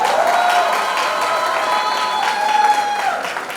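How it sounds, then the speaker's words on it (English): College students at Thakur College applaud their principal, a dense, steady wash of clapping and crowd noise with faint cheering that holds throughout and tapers slightly at the end. "a big round of applause for your principal for giving Mahima this shot"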